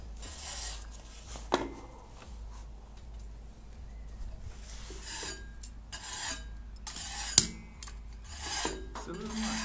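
A blade is drawn across a dry stone in scraping, rasping strokes with a couple of sharper clicks, close up over a quiet background.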